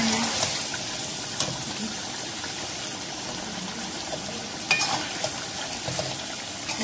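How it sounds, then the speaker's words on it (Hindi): Chicken shahi qorma fries in a pan with ginger added, a low steady sizzle with a few soft stirring scrapes and clinks, heard alone without talk. "अभी भूनने लगी है तो मैं भूनते हुए इसमें थोड़ी सी अदरक डाल दूंगी"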